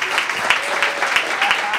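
Audience applause for the winner of a palindrome competition at a comedy show, a steady crowd clapping at moderate loudness throughout with no talk over it.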